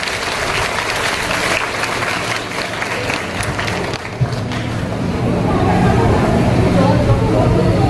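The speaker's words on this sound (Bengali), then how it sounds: "সবাই একটু হাততালি দাও।" A school audience claps for Professor Sadhan Kumar Ghosh, a sustained wash of applause that swells louder toward the end, with some crowd murmur underneath.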